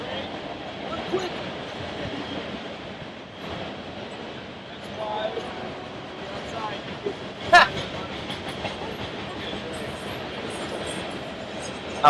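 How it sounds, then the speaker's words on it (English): A freight train rolls past continuously for the whole stretch, a steady low rumble with wheel clatter and a brief metallic squeal partway through, while faint voices murmur in the background. "Another freight train."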